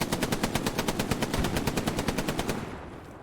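Sustained machine gun fire in the World War II shooter Hell Let Loose, a rapid, even burst of roughly twenty shots at close range that stops abruptly and leaves a fading tail.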